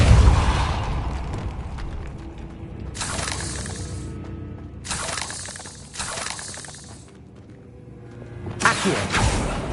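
A Depulso spell cast in the video game Hogwarts Legacy: loud bursts of blasting, shattering whooshes recur in separate surges over a rumbling game background, with a heavier impact near the end.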